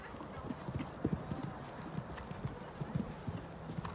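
Horse hooves clip-clopping at a canter during a jumping lesson, a steady rolling three-beat rhythm of moderately close footfalls on an arena surface, with a faint snort or whinny in the mix.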